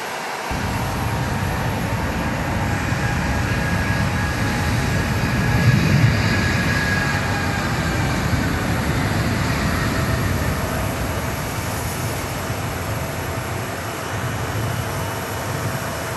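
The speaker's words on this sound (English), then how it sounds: "this wide-body aircraft is used for both passenger and cargo use." A wide-body passenger and cargo aircraft at Phoenix Sky Harbor International Airport gives off a steady, loud, broad engine roar that fills the whole stretch without letup, with no voices.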